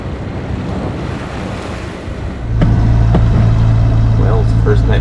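Waves break on a reef close beside a sailboat, a loud continuous roar of surf under heavy wind buffeting, joined midway by a steady low engine drone.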